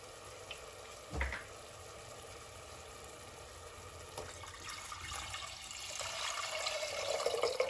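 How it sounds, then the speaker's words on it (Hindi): Water is poured into a hot tadka for Kashmiri haakh, giving a soft, low sizzle and splash that builds gradually. A brief thump comes early on. "अब इसमें हम 1 लीटर पानी ऐड करेंगे।"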